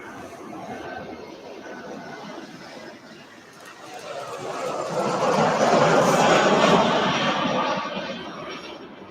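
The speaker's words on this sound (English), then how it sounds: "I'll come back after that so you can hear the engine noise" A West Atlantic cargo aircraft's engines roar at East Midlands Airport, a broad rumble that swells toward the middle and then starts to fade, heard alone without talk.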